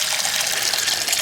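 Water gushes steadily into a container to dilute mustard cake liquid fertilizer, a close, continuous pouring rush with no voices.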